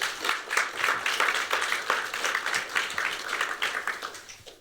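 An audience at a lecture event gives dense, steady applause, many hands clapping together close and loud for several seconds before it starts to thin at the end.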